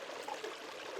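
Flowing stream water runs in a soft, continuous trickle, faint and steady throughout with no other sounds.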